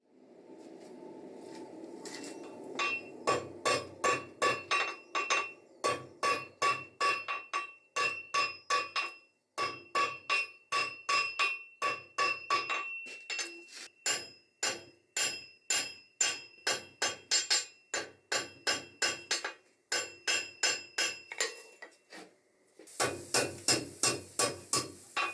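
Hot metal is struck with a hammer on an anvil horn while a wheat sculpture is forged. Loud, ringing blows fall in fast, steady runs, broken by brief pauses, with a closing flurry of strikes.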